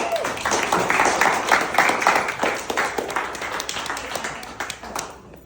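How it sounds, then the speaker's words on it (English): Guests applauding at a state senator's fundraiser event, a dense burst of many hands clapping that starts strong and gradually thins out and fades, with faint voices mixed in underneath. "round of applause for all of us"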